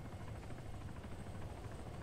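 A helicopter in the Arma 3 video game, heard as a steady, fairly faint rotor drone with a continuous throbbing wash and no talk.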